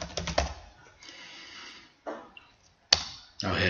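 Keystrokes on a computer keyboard entering a research paper title in Word, a quick cluster of close clicks at the start followed by sparse, isolated taps separated by quiet gaps.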